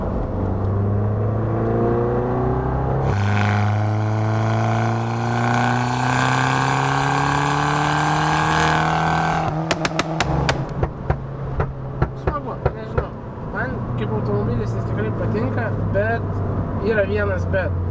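An Abarth 500 engine revs hard, its pitch climbing steadily for several seconds before a shift and a fading, rattling settle, while someone talks over it.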